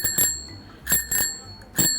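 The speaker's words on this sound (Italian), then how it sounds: "Suoniamo il campanello" A children's bicycle bell rings in three separate bright bursts, each a quick double ding, evenly spaced with a low hum underneath.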